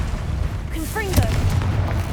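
Confringo fire spell in Hogwarts Legacy erupts as a heavy booming blast with a sharp burst in the middle, while a voice talks briefly over it.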